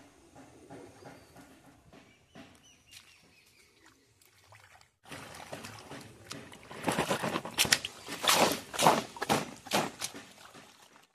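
Water splashes and swishes in a pond as cut raw mangoes are washed by hand. The sloshing bursts come close and fairly loud after a quieter start.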